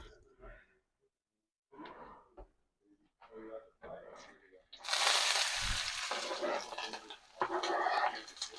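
Onions sautéing in oil in a pan give a loud, steady sizzle that starts suddenly and keeps going, with someone talking before and over it.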